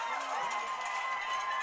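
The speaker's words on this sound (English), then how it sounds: "the crowd is going absolutely wild for good reason" A football stadium crowd roars after a Trinity Tigers touchdown against Berry, a steady, sustained wash of distant cheering with no breaks.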